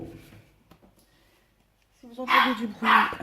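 Two loud dog barks close by in the second half, after a quieter stretch with faint background sounds.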